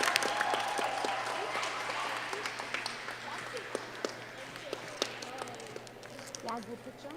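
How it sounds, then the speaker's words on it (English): Audience at a grade 4 academic quiz gives the participants a faint, scattered round of applause, with individual claps standing out against a quiet room and voices in the background. "Please give a round of applause to our awesome participants."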